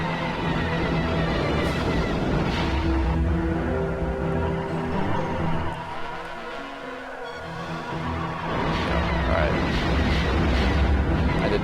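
Laser fire and explosions from the Star Wars: Rogue Squadron video game during a flight over a city, a dense continuous rumble of blasts and engine noise that dips briefly midway before building again.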